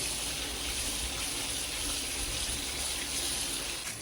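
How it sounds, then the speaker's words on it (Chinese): Small sweet potatoes rinsed in clean water at a sink, with a continuous soft rush of running water and faint splashing throughout. "接下来我们用清水给它清洗干净。"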